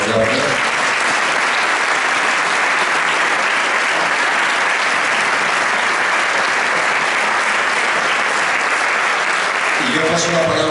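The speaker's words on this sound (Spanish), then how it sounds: "Terminamos con un fuerte aplauso también," A strong, loud round of applause from an audience at a book presentation for José María Barreda, dense steady clapping sustained for about ten seconds with a few voices near the end.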